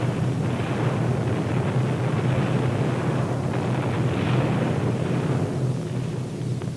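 A dense, continuous low rumble of heavy explosions, as 1,000-pound demolition bombs dropped by B-24s from 16,000 feet burst over air installations. The roar is loud and sustained, with no voices heard.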